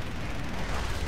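Continuous roaring burst of NS-23 cannon fire from a Shenyang F-5 jet in an air-combat video game, dense and loud throughout with no gaps between rounds, no talking.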